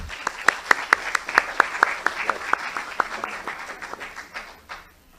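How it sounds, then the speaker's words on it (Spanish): Applause from a modest audience welcoming a congressman at a Peruvian bicentennial independence event, with distinct individual claps close by that thin out and fade after about five seconds. "lo recibimos con un fuerte aplauso"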